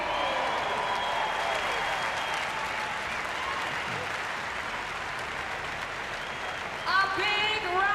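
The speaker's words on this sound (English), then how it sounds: "A big round of applause for our top 10 men" A large arena crowd at the CrossFit Games final applauds and cheers in a dense, sustained wash, with a voice speaking over the noise through much of it.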